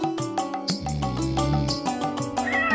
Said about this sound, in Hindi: अब ये बिल्ली भी आ गई